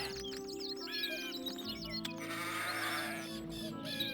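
Sheep bleat several times in the Cultures strategy game, grazing near a shepherd's hut over a busy layer of background music and other game sounds.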